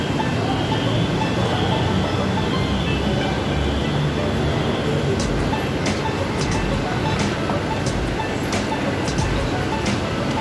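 A train rolls into a station with a continuous loud rumble and rattle, joined by sharp metallic squeals and clicks in the later half.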